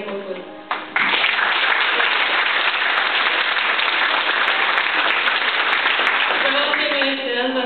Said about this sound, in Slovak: Privítajte aj jeho potlesk.